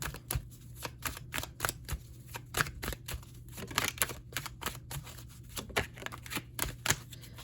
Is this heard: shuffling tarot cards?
yes